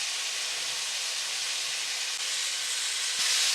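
Ginger garlic paste hits a hot pan of half-cooked onions and tomatoes for a spicy chicken curry, giving a steady, loud, broadband hiss that holds evenly throughout with no talking.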